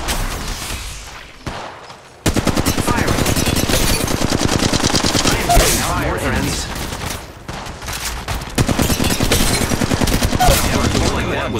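Rapid automatic weapon fire from the video game Apex Legends Mobile, loud sustained bursts with brief pauses between volleys, close and punchy, with short spoken game callouts mixed in.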